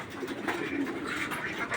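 Pigeons in a home loft coo in a low, continuous murmur, moderately close, with faint background noise and no speech.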